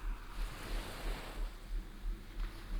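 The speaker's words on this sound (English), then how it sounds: "Become conscious of the sound of the waves as they're breaking ever so" Gentle ocean waves breaking softly on a shore, a steady low wash of surf with soft rhythmic swells and some wind, heard alone at a calm, moderate distance.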